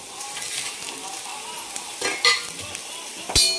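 Onion sautéed with bay leaves, cardamom and stone flower for a mutton curry sizzles steadily in a pan, with sharp spoon scrapes and clatters around two and a quarter and three and a half seconds.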